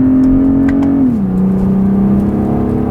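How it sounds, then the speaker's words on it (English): BMW 8-Series Gran Coupé inline six-cylinder engine revving high in the rev range, a loud close smooth drone that dips briefly in pitch and then holds steady. "And this inline 6-cylinder sound, especially when we're now in the higher RPM regions"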